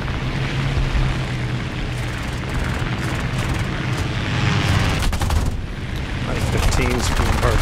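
Aircraft machine gun fire in the War Thunder air arcade game from a CR.32 quater biplane, sounding as dense bursts of rapid shots over a steady engine roar, with a voice speaking over the action.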